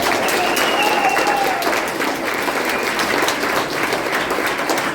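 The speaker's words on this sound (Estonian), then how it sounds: "teeme suure aplausi 9. A-klassi erakonnale" Loud, sustained audience applause fills the room for a school class's mock political party at a student election press conference, dense clapping holding steady throughout with a faint whistle-like tone early on.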